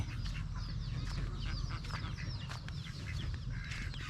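Chickens on a Thai backyard farm being fed Napier grass cluck and chatter continuously over a loud, steady low rumble, the bird calls fairly close and overlapping throughout.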